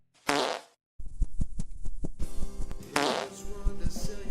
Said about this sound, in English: Just messing around with my farting bird.